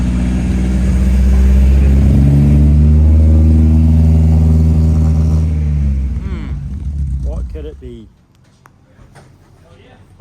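Mercedes 190E Evo 2 engine running loud and steady for about six seconds with strong low rumble, then settling lower with voices talking over it near the end.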